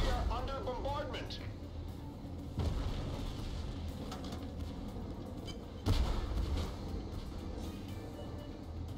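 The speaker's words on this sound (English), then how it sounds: "Bombardment!" Artillery bombardment in the tank game Tank Force, two dull distant booms several seconds apart under a continuous rumbling engine drone, with a voice speaking in places.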